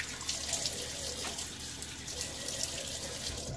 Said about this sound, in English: Water splash on the face now.